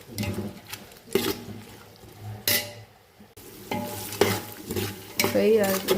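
Onions fry in hot oil with bay leaf, cinnamon, cloves and cardamom for chicken biryani, loud crackling sizzle broken by repeated scraping stirs of a spatula against the pan, close and busy with no voices.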